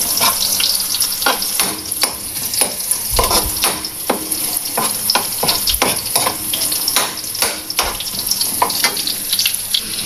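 Garlic, ginger and onion sauté in a hot pan, a steady close sizzle with frequent scraping stirs and occasional utensil knocks, no talking.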